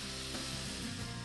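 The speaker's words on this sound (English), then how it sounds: "they'll release all of their juices and sizzle down to make a delightful caramel strawberry jam" Soft, steady sizzling from strawberries cooking down in a pan, a faint continuous hiss with no talking.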